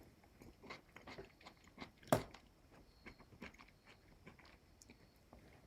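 Crisp Chinese takeout-style peppers are bitten and chewed close up, giving a quiet run of irregular crunchy crackles with one sharper bite partway through and no talk.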